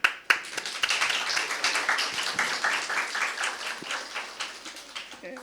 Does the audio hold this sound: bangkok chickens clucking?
no